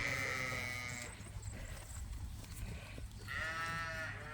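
Sheep bleat in a pasture, two clear drawn-out calls at the start and end, with a lower rumbling background between them and no speech.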